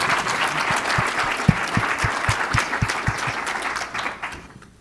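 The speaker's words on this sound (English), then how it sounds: "Let's give them a warm round of applause." A warm round of audience applause at a university-hosted talk on medical isotopes, rhythmic clapping with a few strong claps standing out near the front, holding steady and then fading away at the end.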